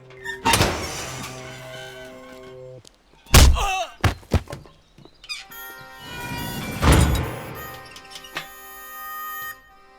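A door is unlocked and opened in a scene from the Hindi film Sholay: a few heavy clunks and sharp knocks, close and loud, set among sustained background music.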